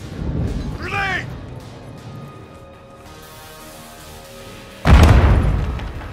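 Grenade explosion in the Modern Warfare 2 campaign, preceded by a brief shouted voice and a quiet lull, then a single loud close blast with a rumbling decay.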